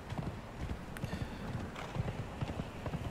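Horse hooves clip-clop in a quick, steady rhythm in the Conan Exiles video game, close and continuous, with faint ambient game sound behind.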